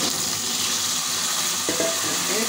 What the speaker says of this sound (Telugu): ఈ గుమ్మడికాయ ముక్కల్ని వేసుకోవాలి.